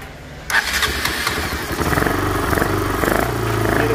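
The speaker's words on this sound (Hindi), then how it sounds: "हमने कर दी गाड़ी स्टार्ट देखो" A fuel-injected motorcycle without a carburetor cranks on its electric self-starter after a short quiet moment, then catches and settles into a loud, close, steady idle.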